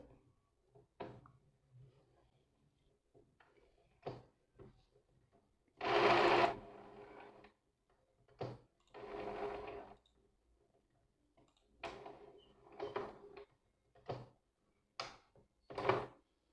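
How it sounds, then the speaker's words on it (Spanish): An Epson L-series inkjet printer restarts with irregular bursts of whirring and clicking mechanism noise, short ticks alternating with a few longer grinding runs separated by quiet gaps. "La impresora se reinicia."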